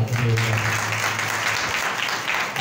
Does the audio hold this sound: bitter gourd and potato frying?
no